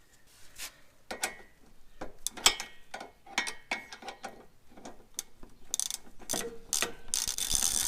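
A ratchet tightening a nut on the sway bar end link of an Integra, a series of crisp close clicks in uneven short bursts, fairly quiet with a few metallic taps between strokes.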